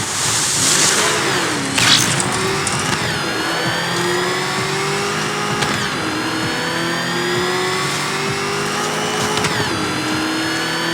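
In the video game Batman: Arkham Knight, the Batmobile's engine revs and roars loudly. Repeated climbing whines step up through gear shifts, with a whooshing burst near the start.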